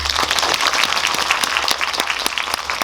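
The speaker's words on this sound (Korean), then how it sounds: "오늘 함께 해주신 많은 분들께 큰 박수 드리면서 마무리하겠습니다." A theater audience applauds steadily and loudly at the close of a film talk event in a Dolby Cinema hall, with dense continuous clapping throughout.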